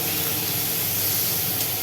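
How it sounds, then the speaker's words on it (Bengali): Spices frying in a pan with turmeric and salt for a tengra fish curry, a loud steady hiss and sizzle with faint crackles, continuous and close. "এটা একটু ভাজা ভাজা হয়ে নিক"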